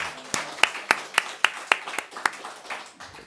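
A church congregation claps in a steady, even rhythm, about ten sharp claps close together and fairly quiet, with no voices over them.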